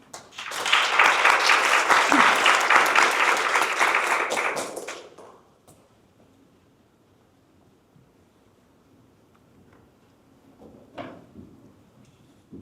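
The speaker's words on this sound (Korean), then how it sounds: "박수 부탁드립니다" A crowd applauds at a Seoul National University College of Natural Sciences 50th anniversary ceremony, a dense loud burst of clapping lasting about five seconds before fading into quiet room tone with faint rustles.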